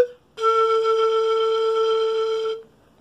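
Quena, the Andean end-blown flute, holding one clear, steady breathy note for about two seconds after a brief silence, close and alone.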